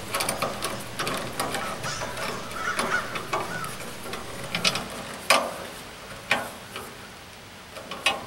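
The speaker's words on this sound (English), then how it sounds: "you can put a nut on it, and you can use a hand tool to tighten the nut" Hand tool tightening a nut on a strut channel beam clamp bolt, making close, steady ratcheting clicks with a few sharper metallic knocks, and no talk.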